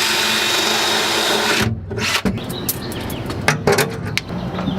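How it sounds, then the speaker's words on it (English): A power drill runs continuously at high pitch, then stops; afterward come short bursts of drilling and clattering, close by, as bolt holes are drilled while installing a step on a work truck. "I'm gonna drill this hole out, these 2 holes out,"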